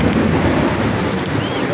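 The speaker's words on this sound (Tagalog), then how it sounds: "Lakas ng ulan, may kasamang kilat pa." Heavy rain pours down steadily and loudly, with a deep rumble of thunder rolling beneath the downpour throughout.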